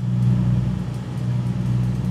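A truck engine drones and revs in the American Truck Simulator video game, a loud steady low rumble with slight rises in pitch, heard alone without talking.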